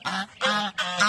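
Domestic geese at a gathering place honk three times in quick succession, loud, close and harsh, each call a sustained nasal blare with short gaps between, with no talk.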